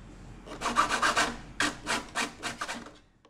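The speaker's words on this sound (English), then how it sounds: "Using 60 grit to remove the excess fiberglass and to fair in both layers" Sandpaper of 60 grit sands excess fiberglass on a model RC plane fuselage, a run of quick rhythmic rasping strokes in two bursts, close and clear with no talk.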